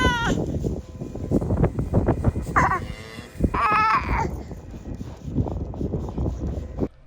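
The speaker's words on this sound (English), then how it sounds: "Heifer, so first calf, and she's getting in about licking it" A first-calf heifer lows and bleats over her newborn calf on a farm, several loud calls breaking out amid close rustling and shuffling.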